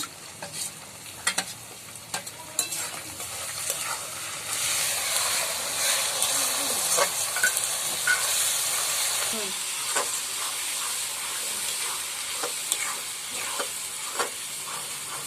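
Masala spices frying and being stirred in a pot, cooked outdoors for a picnic, with a steady sizzle and hiss, scattered scraping stir clicks throughout, and a faint voice in the background.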